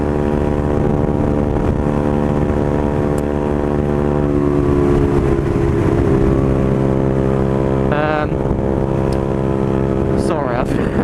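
Motorcycle cruising steadily in sixth gear, a loud continuous engine drone with wind rush filling the whole stretch, holding a constant pitch with a brief shift near the end.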